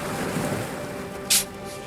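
Black Sea waves wash onto the shore in a steady, broad rush of surf mixed with wind, with a brief brighter splash near the end.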